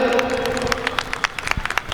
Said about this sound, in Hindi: जोरदार तालियों के साथ आप इनका अभिनंदन करें